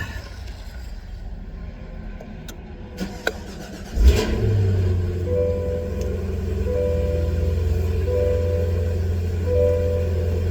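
A supercharged car engine cranks and catches with a sudden roar, then settles into a deep, loud idle with a few light blips of revving, heard up close.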